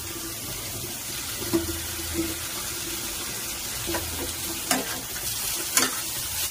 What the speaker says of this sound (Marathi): त्याच्यानंतर ब्लॅक पेपर पावडर आपण टाकून घेऊया आणि रेड चिली सॉस टाकून घेऊया आपण।